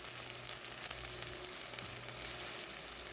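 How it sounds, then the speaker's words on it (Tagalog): Onion, garlic and ginger with bay leaves sauté in two tablespoons of vegetable oil for chicken karahi, giving a soft, steady, even sizzle with no talk. "nagsuti ako ng onion, garlic at ginger at nilagyan ko ng bay leaves"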